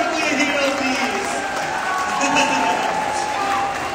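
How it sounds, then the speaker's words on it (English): An audience at an orchestra concert applauds, a dense, even wash of clapping that holds steady throughout. "A round of applause for Kuya Hiro, please."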